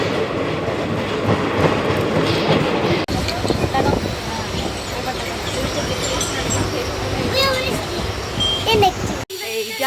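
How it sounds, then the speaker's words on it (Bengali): Rumble and rhythmic clatter of a passing Howrah–Kathgodam express train, close and loud, with people talking over it. "হলুদ এক্সপ্রেস ট্রেন কাঠগুদাম যাচ্ছে রে"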